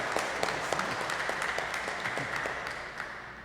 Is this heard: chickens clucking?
no